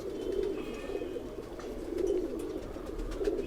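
Pigeon cooing close by, repeated low soft coos in a slow rhythm over faint background noise.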